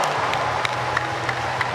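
Steady stadium applause and rhythmic clapping from a large crowd at a para athletics long jump, a dense continuous wash of hand claps with a few sharper claps standing out, no speech over it.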